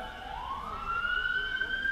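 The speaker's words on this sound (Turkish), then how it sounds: "Siren sesi bitsin, öyle devam edeceğim." An emergency vehicle siren wails on a street in Edirne, rising steadily in pitch and holding loud and close over traffic rumble, with no talking.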